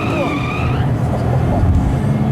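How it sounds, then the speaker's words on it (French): Race car engine in a racing video game, a sustained loud drone with rising tonal whine early on, set under steady game audio with a voice speaking over it. "je passe la voiture en accélération. Je vais accélérer."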